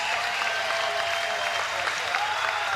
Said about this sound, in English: let's cheer for both warriors